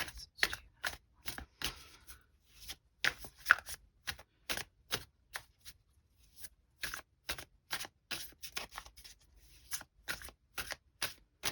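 Gilded Tarot cards shuffled by hand, with a long run of quick, crisp riffling bursts in an irregular rhythm, close and fairly quiet, with short pauses between the bursts.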